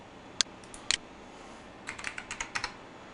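Name keyed in on a computer keyboard: a couple of isolated clicks, then a quick, close burst of about half a dozen keystrokes, crisp and fairly quiet against a soft background hiss.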